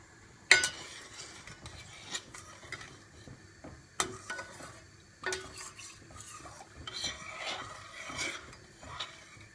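Sugar being stirred into a pot of zerde, a Turkish saffron rice pudding, gives soft, close scraping and clinking from the spoon against the pot, quiet and intermittent, with no talking.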